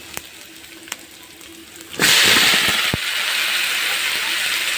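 Chopped tomato hits hot oil in a pan for curry leaf chutney, breaking into a loud, steady hiss and sizzle that settles into continuous frying, after a few light clinks of a utensil.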